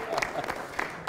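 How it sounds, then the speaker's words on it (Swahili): Audience applause during a Swahili arts performance at Upperhill High School, a brief burst of clapping under a speaking voice. "Ameokoa sana, makofi mpigie."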